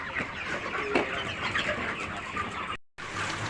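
A dense, steady chorus of many chickens clucking all at once fills a poultry farm, with a brief dropout near the end.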